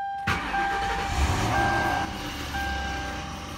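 A Ford F150 pickup cranks and starts with an odd, abnormal noise, and a steady intermittent electronic beeping repeats over the low engine rumble. No talk is heard.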